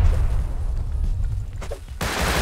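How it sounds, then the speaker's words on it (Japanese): Satchel charge explosions in the Rust video game: a loud, rumbling roar of blasts and crackling booms that dips briefly, then ends with a sudden heavy blast, with no talking. "こんだけ爆発音させてたら来るか"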